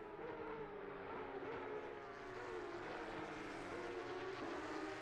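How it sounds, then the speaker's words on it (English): Porsche Cup race cars racing at Donington Park, a continuous engine roar with shifting pitch from several cars passing at a distance, heard alone without talk. "These cars sound absolutely amazing"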